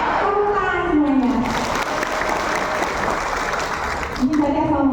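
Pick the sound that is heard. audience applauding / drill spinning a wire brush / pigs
audience applauding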